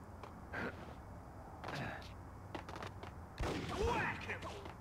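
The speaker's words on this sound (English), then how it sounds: "I hear bullets incoming." Incoming gunfire in the Max Payne video game, scattered bursts of shots at moderate distance, irregular and fairly faint, mixed with breathy vocal sounds and game noise.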